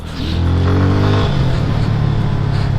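A Yamaha FZ25 motorcycle engine hums steadily while riding, loud and close, its tone dropping slightly partway through as the revs settle, with faint wind noise.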